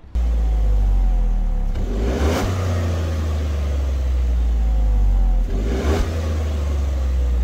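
A Jeep Avenger 1.2 engine rumbles deeply at close range, its exhaust roaring as it revs hard twice, several seconds apart.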